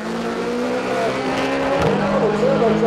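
A Vauxhall and a Honda Civic roar together in a drag race at Santa Pod Raceway, a loud continuous engine drone with a brief gear-change dip, heard under crowd noise and commentary.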